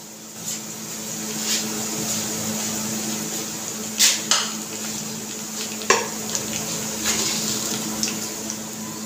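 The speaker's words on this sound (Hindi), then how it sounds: "लहसुन को हम लाइट गोल्डन होने तक फ्राई करेंगे" Steady sizzling of garlic frying in a pan, with occasional scraping and stirring clinks, no voices.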